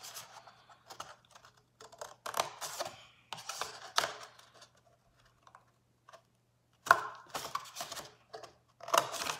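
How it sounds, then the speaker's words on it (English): Crisp, repeated snipping and crunching of scissors cutting through a stiff paper plate in short bursts, with pauses between, close up. "We're gonna be doing some cutting of the plate."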